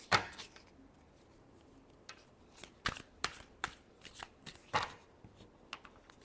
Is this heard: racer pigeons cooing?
no